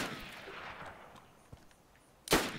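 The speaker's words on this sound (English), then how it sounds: "Oh, he's shooting." A single sharp gunshot cracks out in the DayZ video game near the end, loud and abrupt after a quiet stretch with a faint smaller pop earlier.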